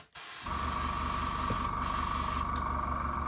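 An airbrush sprays grey paint onto a wooden cat carving, a steady close hiss that starts abruptly and runs without a break, briefly dipping as the flow is adjusted.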